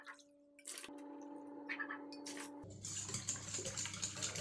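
About 600 ml of water pours into a bowl for pancake batter, first a few light drips and clinks, then a steady close stream of splashing water, no talk.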